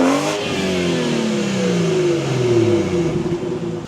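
A BMW 440i running a catless downpipe and stage 2 tune revs up, its engine note climbing then sweeping down in a long falling tone, loud and close with no talking.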